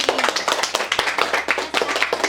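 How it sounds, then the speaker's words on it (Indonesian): Students in a classroom clap for two classmates, Gendu and Gung Rai: a brisk, uneven patter of many hands clapping close by, steady for a couple of seconds with no talking. "tepuk tangan untuk Gendu dan Gung Rai"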